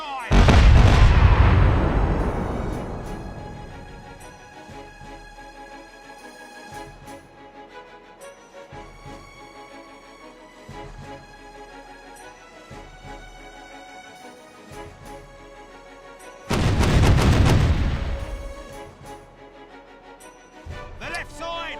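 Broadsides of ship cannons in the pirate sailing game Caribbean Legend: Age of Pirates: a heavy, booming volley that rumbles and fades, a long lull with faint ambience and speech, then a second loud cannon barrage near the end.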